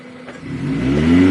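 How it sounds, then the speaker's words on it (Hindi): A car engine rising in pitch and loudness as it revs hard up a steep hill in Bagh, Azad Kashmir, a steady, building drone close by. "अपनी गाड़ी को चढ़ाई से उठा लिया"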